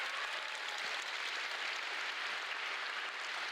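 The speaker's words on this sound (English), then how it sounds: "Another round of applause, please" An audience claps in continuous, dense applause, a steady wash of many hands at even loudness throughout with no voices over it.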